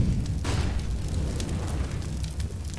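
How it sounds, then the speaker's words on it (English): A grenade or flashbang blast in Counter-Strike, a muffled booming rumble with a sharp burst early on, followed by a low roaring tail that holds steady. "Grenade out. Deploying flashbang."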